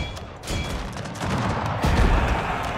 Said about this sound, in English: Then we'll shoot down the enemy.